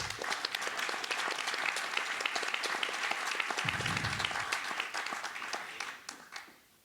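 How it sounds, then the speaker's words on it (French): Applause fills a municipal council meeting room after a vote result, a dense steady clapping from the assembled members that holds for several seconds before tapering off near the end. "Donc, on peut applaudir le..."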